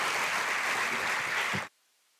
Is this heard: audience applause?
yes